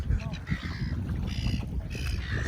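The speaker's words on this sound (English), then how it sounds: "Sure it's not another bird." A duck hooked on a fishing line calls out in harsh, repeated squawks and honks over splashing and rustling near the water, with voices faintly mixed in.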